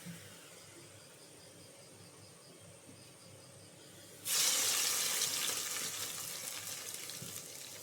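Browned onions poured into cooked beef for a beef roast, a sudden loud sizzling hiss bursting in after a quiet stretch and slowly easing, close by.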